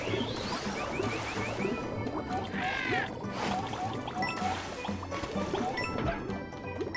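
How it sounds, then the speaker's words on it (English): Birds in a video game squawk in quick, repeated chirping calls over water-like splashing and crashing game sounds, fairly loud and busy throughout, with no talking. "Damn birds, fuck you."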